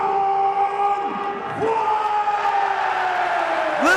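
A Pride FC arena crowd roars and whoops in a sustained ovation for fighter Don Frye at Pride 19 Bad Blood, with rising shouts and a loud swell near the end.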